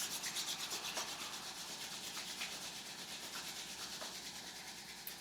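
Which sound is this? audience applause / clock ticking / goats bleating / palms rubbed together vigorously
palms rubbed together vigorously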